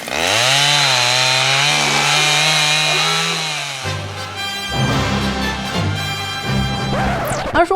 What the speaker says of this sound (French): quand on va capter les bruits des tracteurs et des scies